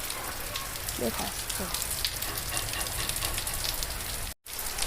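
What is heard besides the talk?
monsoon rain falling in Junagadh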